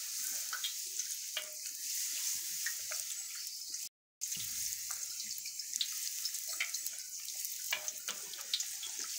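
Water pours steadily while dough for Tibetan-style fried khapse is being prepared, a soft continuous splashing with a few small drips, briefly cut off once, with no talk.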